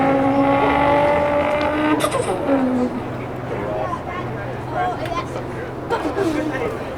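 A voice imitates a car engine's two-step rev limiter, making loud, close, revving mouth sounds with rising and falling pitch, followed by sputtering bursts and some speech-like noise.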